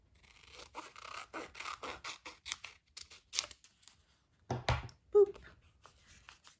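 Scissors snipping through folded paper, a run of quick close cuts followed by a pause and a couple of louder final snips, with light talk at moments.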